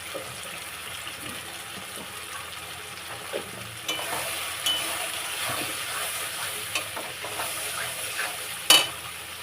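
Spices with salt and turmeric sauté in oil for aloo dum, a continuous close sizzle broken by intermittent stirring clinks and scrapes, with one sharper knock near the end.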